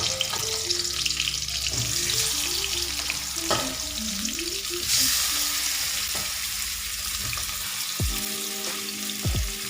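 Mackerel frying in coconut oil in a pan over a low flame gives a steady, close sizzle, with background music playing throughout and a few brief clatters near the end.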